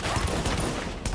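Gunfire while fighting enemies in the video game The Division: a dense burst of repeated loud shots, close and continuous.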